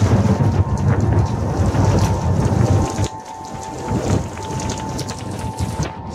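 A severe thunderstorm with steady heavy rain and deep rolling thunder, loud and continuous throughout, with a brief dip in the downpour near the middle; a faint steady tone runs underneath.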